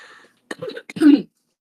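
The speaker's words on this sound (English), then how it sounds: "going to cough a bunch." Two or three short, harsh coughs close to the microphone, separated by brief pauses, with quiet breath before them.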